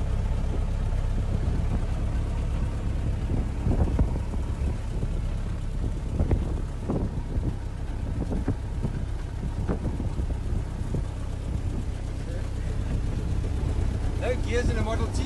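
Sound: 1915 Ford Model T driving, ride sound

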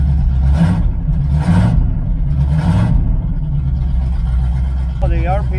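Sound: 1985 Chevrolet IROC-Z engine running at high RPM

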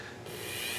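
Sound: Dremel rotary tool cutting perpendicular lines in wood

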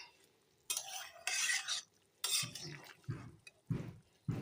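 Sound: stirring fried bora in syrup in a pan

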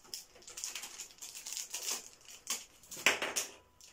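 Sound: unpacking camera mounts from packaging

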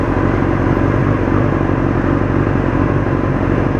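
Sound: motorcycle accelerating to do a wheelie

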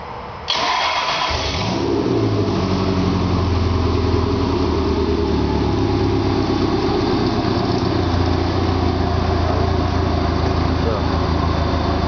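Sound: Rotorway Scorpion helicopter Subaru engine cranking and running

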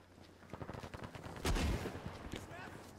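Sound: M1 Garand rifle gunfire in the video game Battlefield 5

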